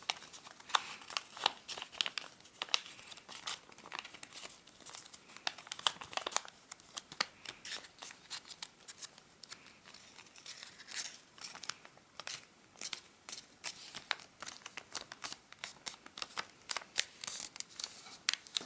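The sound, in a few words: origami paper being folded in half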